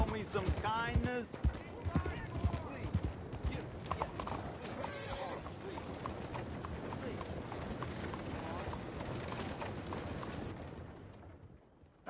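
Horse hooves clip-clop at a steady walking pace in Red Dead Redemption 2, with a horse whinnying near the start and voices talking over the hoofbeats.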